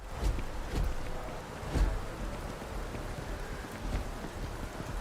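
Steady rain in the Starfield video game world, a soft continuous patter with faint low rumbles, moderately quiet and with no talking.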